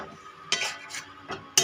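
Fried potatoes being stirred into a spice mix in a pan, a few scraping strokes of a spatula against the metal with light clinks, close and fairly quiet.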